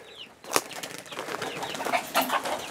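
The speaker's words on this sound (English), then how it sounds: "We've got a bunch of doves" A flock of doves bursts into flight with a sharp flurry of flapping wings, followed by scattered cooing and bird calls over the continuing wing noise.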